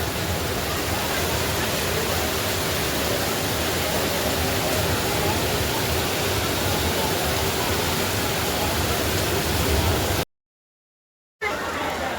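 Heavy monsoon rain roars as a loud, steady hiss of falling water that floods homes, unbroken for about ten seconds before a sudden brief dropout, then resuming.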